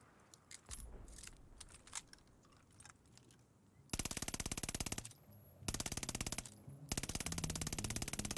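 An MG42 machine gun in Call of Duty Vanguard fires in long, rapid bursts with a dense buzzing rattle, broken by short pauses, following quieter clicks and handling noises at the start.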